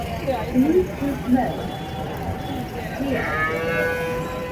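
Cart bulls brought from Andhra lowing at the Vaniyambadi cattle market, a few short moos amid a steady crowd murmur and outdoor market noise.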